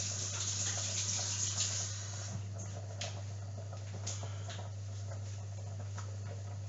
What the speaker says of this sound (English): washing my hands because egg's hands are not good.